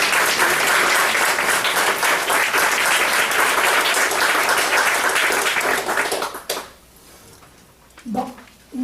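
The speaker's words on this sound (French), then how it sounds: "on peut les applaudir." A room full of people bursts into loud, sustained applause at a season-launch gathering, dense clapping that fades out near the end, followed by a brief murmur and a short voice.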